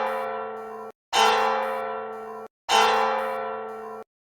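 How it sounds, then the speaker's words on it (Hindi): A large temple bell rings loudly three times, each strike clanging bright and then humming down into a long sustained tone before the next. "अचानक मंदिर की घंटी अपने आप जोर जोर से बजने लगी"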